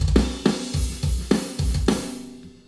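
An EZ Drummer 3 drum pattern with repeated kick and snare hits under ringing cymbal wash, the hits coming in an uneven groove before decaying.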